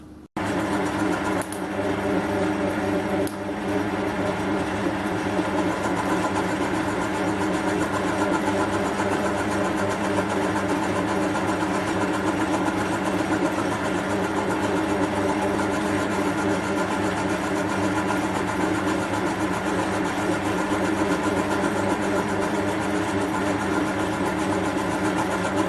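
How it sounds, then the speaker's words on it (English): A lathe skims home-cast brass round stock, giving a steady, continuous motor hum with a constant mechanical whine that runs unbroken for the whole stretch at an even, fairly loud level. "So now I'll stick it in the lathe and we'll skim it and see what it looks like."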